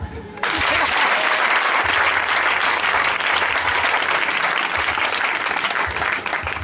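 Church congregation at a Sunday service breaking into sustained, loud applause in acclamation, a dense wash of clapping that starts abruptly and holds steady throughout with faint voices mixed in.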